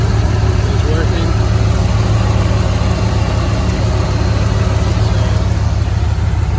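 A 2007 Dodge Ram with a new radiator idles steadily while its condenser fan runs, giving a loud, constant engine hum and fan whir with no change in pitch throughout.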